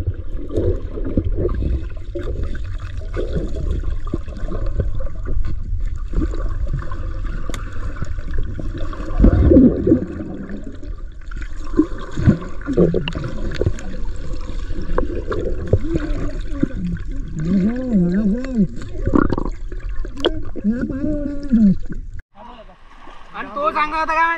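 People jump and splash into river water while bathing, with sloshing and splashes under constant excited chatter and shouting from a group nearby.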